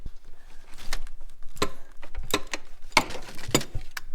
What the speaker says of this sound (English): you can only use this ratchet for about one turn around